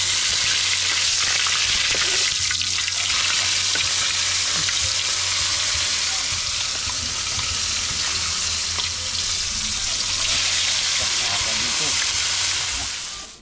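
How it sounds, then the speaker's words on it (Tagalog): Fish caught while spearfishing in the Philippines fries in a pan with a loud, steady sizzle and hiss close by, running continuously throughout. "Ipiprito na natin."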